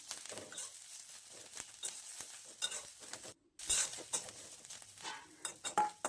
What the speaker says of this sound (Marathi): इथे आता 1 चमचा तेल घालायचे आणि मसाला असं चांगला पुन्हा भाजून घ्यायचा आहे